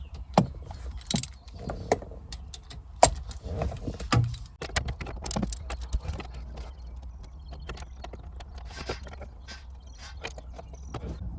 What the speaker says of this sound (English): I had to prise it off with a jack, which I put in there